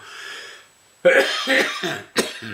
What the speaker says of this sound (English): got a bad cough.